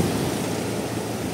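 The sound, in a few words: large sea waves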